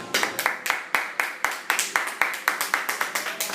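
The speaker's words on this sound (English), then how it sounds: "it seemed like people were applauding that my show started" Sharp, fairly quick hand claps ring out in a steady series, clear and moderately close, from people watching a game in a sports bar, with no voices over them.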